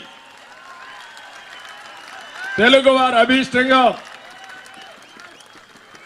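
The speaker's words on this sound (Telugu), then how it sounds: "ఈ సమావేశంలో ప్రతి ఒక్కరూ గట్టిగా చప్పట్లు కొట్టి" At an NTR centenary celebration meeting, a short burst of audience applause rises for about a second and a half while someone speaks over it, then fades back to quiet talk.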